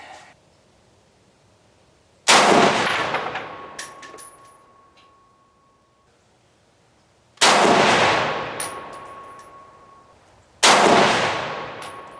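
Three sharp CETME C rifle shots fired while sighting the rifle in, each a loud crack with a long decaying echo, spaced a few seconds apart with quiet between them and no talking.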